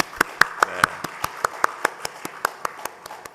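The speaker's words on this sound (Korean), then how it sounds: "우리 6명 수료했는데 우리 축하의 박수 한번 드리겠습니다" Sparse, evenly spaced hand claps, roughly a dozen sharp strikes in a steady rhythm, from a small church congregation applauding six graduates of a training course at a Sunday service; thin and moderately close, with no dense crowd roar.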